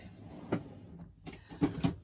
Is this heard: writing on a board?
no